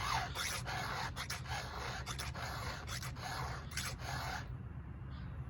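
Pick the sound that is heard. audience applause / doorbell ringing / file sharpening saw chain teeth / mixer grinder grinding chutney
file sharpening saw chain teeth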